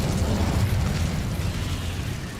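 Incendio fire spell cast in Hogwarts Legacy, a heavy booming burst with a deep low rumble that rolls on and fades slowly, heard alone.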